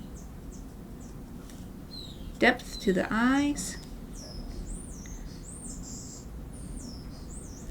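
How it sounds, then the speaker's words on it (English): Birds call outdoors, heard faintly from inside as a string of repeated high, warbling chirps spread across the stretch, while a person speaks briefly up close in the middle. "The birds outside are really energetic right now, making a lot of noise."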